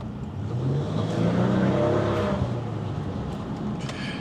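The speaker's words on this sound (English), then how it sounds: "Oh, listen to that exhaust." A Maserati Quattroporte revs on a race circuit, its exhaust swelling into a loud, rising engine roar that holds for a few seconds, then eases back.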